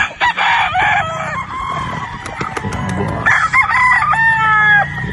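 Broodstag gamecock roosters crowing close by at a farm, several long cock-a-doodle-doo calls rising and overlapping with some clucking between them.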